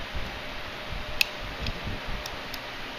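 A micro SD card clicks into the slot of an LED sound card, giving one sharp, close click over a low background hum, followed by a couple of fainter ticks.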